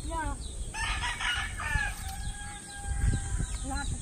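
Several fighting roosters crow one after another at moderate distance, their calls overlapping against a steady outdoor background, with a few clucks in between.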